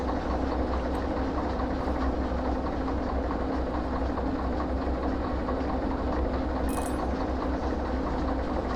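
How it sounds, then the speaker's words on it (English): A train in the Derail Valley railway game rumbles steadily while a wagon is coupled on, a loud constant mechanical drone with a brief sharp clank late on. "Gonna connect it to the train."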